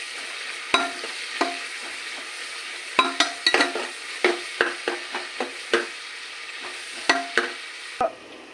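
Onions and green chillies frying in a pan for a simple biryani, a soft steady sizzle broken by repeated sharp scrapes and taps of a spoon stirring, close and fairly quiet.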